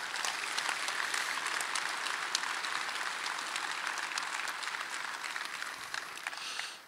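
Applause rings out around the show ring at the Cattlemen's Congress Angus bull show, a steady dense clapping from the crowd lasting several seconds before fading out at the end.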